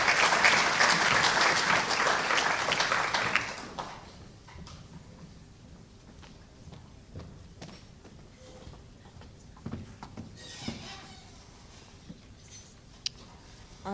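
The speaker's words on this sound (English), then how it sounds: "Let's give another round of applause" A crowd applauds loudly for a few seconds at an FFA awards banquet, then the clapping thins to scattered claps and quiet room noise.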